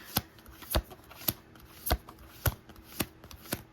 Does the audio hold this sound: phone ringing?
no